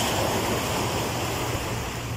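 Sea waves washing onto a beach in Mindanao, a continuous broad hiss of surf with a low rumble underneath, steady and fairly loud, with no voices.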